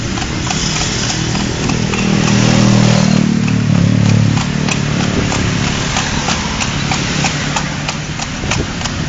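Horse hooves clip-clop in a steady rhythm as the animal pulls a kalesa carriage around Luneta, close and clear, with traffic rumble swelling briefly in the background.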